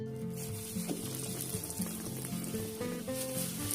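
Slices of white bread coated in breadcrumbs frying in hot oil, a steady crackling sizzle with close, busy bubbling that carries on throughout with no talking.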